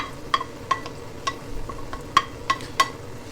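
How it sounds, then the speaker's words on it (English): Onions drop into hot oil in a pan for an Italian white chicken ragu, giving a soft steady sizzle with sharp clicks and taps of stirring throughout. "our oil is up to temperature. We're going to now add our onions,"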